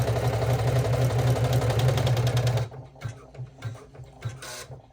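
A Janome embroidery machine stitching a front zipper stadium bag in the hoop gives a steady, close mechanical whirring hum for about half the time, then stops. Sparse quiet clicks and handling noises follow.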